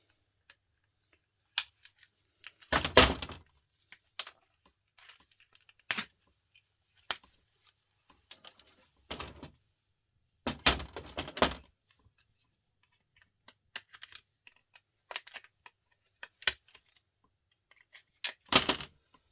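Electronic power boards being torn apart by hand, with scattered sharp cracks, snaps and rustling bursts separated by quiet pauses, close and fairly faint.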